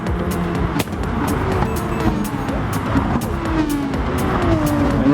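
Porsche race cars in a sim racing game roar past with a continuous loud engine drone and rising and falling revs, while a commentator talks over them.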